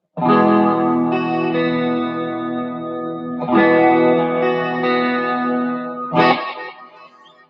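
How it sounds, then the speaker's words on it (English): Sustained electric guitar chords with two pickups out of phase, drenched in chorus and hall reverb, with two cascading delays repeating; three strummed chords ring out and fade. "That is chorus, hall reverb, two different cascading delays, and then these two pickups out of phase"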